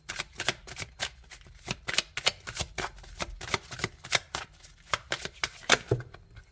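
Oracle cards are shuffled in repeated quick riffling bursts, a steady rhythm of crisp flutters up close, with no voices.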